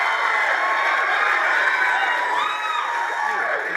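A studio audience on a talk show cheers and applauds in a continuous, lively roar of mixed voices and clapping that holds steady throughout.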